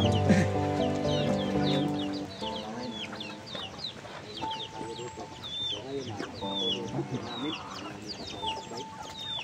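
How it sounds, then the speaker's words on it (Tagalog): Many chickens cluck and squawk all around at close range, overlapping calls repeating throughout, with a steady tonal hum and faint voices in the background. "ang daming manok"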